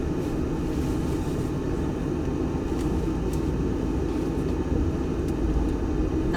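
A Tesla on FSD Beta rolls along with a constant low cabin rumble of tyres and road noise, steady and unbroken with no voices.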